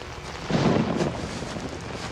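Thunder rolls during a lightning storm in the horror video game Outlast, a low rumbling swell rising and fading over a steady wash of wind and rain-like noise.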